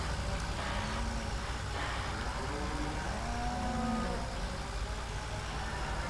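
Cows in Farming Simulator 2017 give a few drawn-out moos in the middle of the clip over a constant low rumble of farm machinery.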